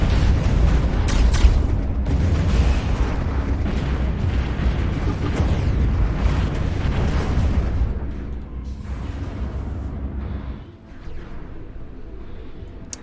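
Space battle in the modded Stellaris game, with dense continuous rumbling explosions and booming torpedo blasts for several seconds before thinning into a quieter hum.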